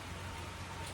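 Steady rain patters on a surface on a cold morning, a dense, even hiss with no gaps that holds at a constant level throughout the whole second.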